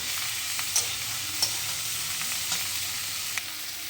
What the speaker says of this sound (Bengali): ভেন্ডিটা একটু নাম মেরে নিই ভালো করে কষিয়ে নিই